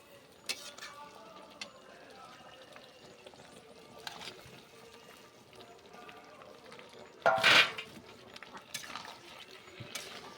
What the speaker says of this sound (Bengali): এবার আমি হালকা করে জল দিয়ে দেব। দিয়ে নেড়ে দেব।